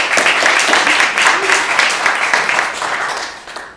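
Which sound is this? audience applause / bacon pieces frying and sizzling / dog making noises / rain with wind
audience applause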